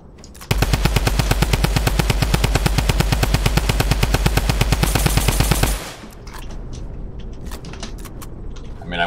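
Rapid automatic gunfire in the video game Fortnite rattles out as one long, loud, evenly spaced burst of shots lasting about five seconds, then gives way to quieter game noise.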